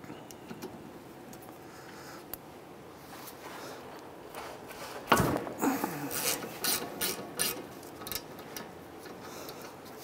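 Ratchet with a 14 mm socket backing out caliper bolts on a 2007-2013 Mitsubishi Outlander during wheel bearing work, quiet clicking early then a louder burst of rapid ratcheting clicks in the second half, close up.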